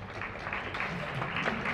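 Audience applause at a school gathering, a steady wash of clapping from a crowd, moderately loud and continuous throughout the short stretch.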